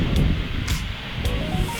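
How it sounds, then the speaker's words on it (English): Gusty wind buffets and rumbles across an open garden like a field, with a few brief whooshing rushes of air at intervals, and no talking. "As you can hear, it's quite windy as well"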